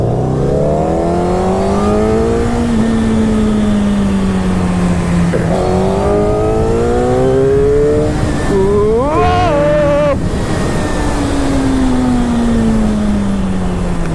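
A Suzuki liter bike motorcycle accelerates hard, its engine note climbing steadily through several gear changes with brief dips between shifts, loud and close throughout.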